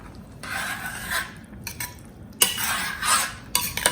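Spoon stirring chopped coriander into a French beans dhokli sabzi in a pot, bursts of scraping and rubbing with short pauses between, close and clear, no voices.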